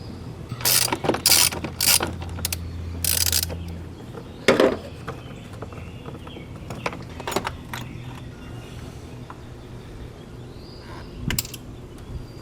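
A hand ratchet backs out a 10mm bolt during an oil change, giving several bursts of rapid clicking near the start, then scattered clanks and taps of loose metal parts, with quieter gaps in between.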